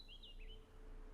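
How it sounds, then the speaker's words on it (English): Birds sing outdoors on a quiet day, a few thin clear chirps and a short warbling phrase over a faint low hum. "The birds singing, the bees buzzing."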